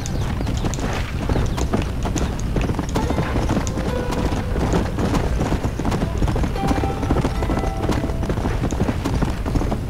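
Fast, continuous hoofbeats of a galloping horse in the video game Red Dead Redemption: Undead Nightmare over dense ambient noise, loud and close throughout, with occasional faint snorts.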